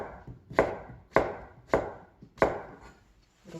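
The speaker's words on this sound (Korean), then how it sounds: "이 두께로 이렇게 내신 다음에 그 다음에 얇게 썰어 주시면" A knife slicing a carrot thinly on a cutting board produces four evenly spaced, crisp chops close up, each a sharp thud, followed by a quiet pause and a faint fifth touch.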